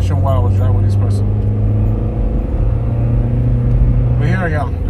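Car driving on the road heard from inside the cabin as a constant low engine and road hum, steady throughout, with someone talking over it at the start and again near the end.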